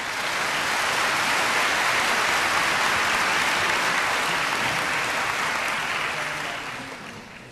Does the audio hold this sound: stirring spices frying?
no